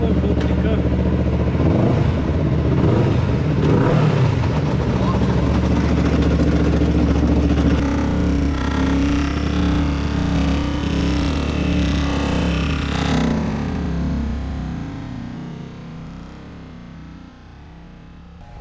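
A car engine revs hard and drones loudly while a faulty gearbox or clutch keeps power from reaching the wheels, the roar holding for most of the clip before fading out over the last few seconds.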